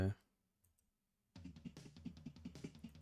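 Rapid clicking keystrokes on a computer keyboard, close and irregular, following a brief sound and a moment of near silence.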